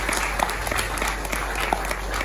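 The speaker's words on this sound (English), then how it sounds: "Please, a round of applause for William and the team." Audience applause fills a summit hall at the Ghana Tertiary Awards' After School Summit 2024, a dense, steady clapping that holds at an even level for the whole stretch, with no voices standing out.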